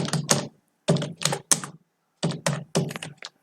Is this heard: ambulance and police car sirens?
no